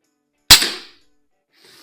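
A single sharp crack from a Norica Variatus 2.0 bullpup .22 air rifle firing 14.3-grain pellets at around 920 feet per second at a range, loud and close with a quick decaying tail, then faint noise.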